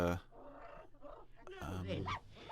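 A small dog barks and yips in short bursts, close by, between stretches of whimpering and growly vocal sounds.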